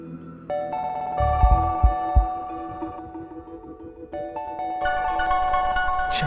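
A phone ringtone plays a bright, repeating electronic melody up close, pausing briefly before the tune starts again, with no talking over it.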